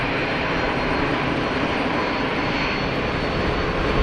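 A Pilatus PC-12 turboprop with a Pratt & Whitney PT6 engine roars loud and close at Geneva Airport, a dense, steady engine drone holding constant for several seconds without any speech.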